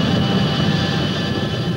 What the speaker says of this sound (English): build engines for jet fighters